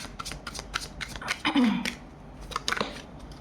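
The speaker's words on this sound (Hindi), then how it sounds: "यहाँ से दोबारा शफल करूँगी" Tarot cards being shuffled by hand in a series of short papery riffles and slides, close and moderately loud, with a brief louder burst midway.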